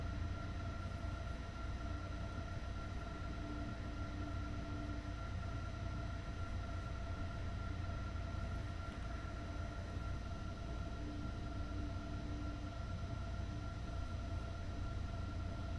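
City train running in Train Sim World on the Stuttgart–Heilbronn line: a steady low rolling rumble with sustained tonal hums and a faint intermittent whine, quiet and even with no talk.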